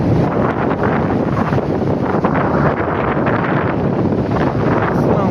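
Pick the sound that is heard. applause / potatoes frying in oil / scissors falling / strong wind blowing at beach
strong wind blowing at beach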